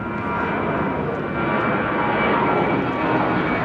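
A jet airliner on Heathrow's runway 09R spools up for departure, a loud, steady engine roar that holds throughout with no talk.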